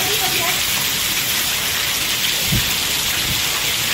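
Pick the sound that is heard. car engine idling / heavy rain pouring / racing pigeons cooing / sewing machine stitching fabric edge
heavy rain pouring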